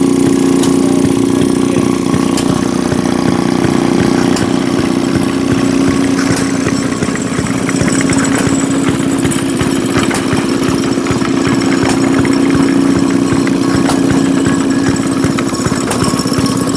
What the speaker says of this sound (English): This looks like a little washing machine engine.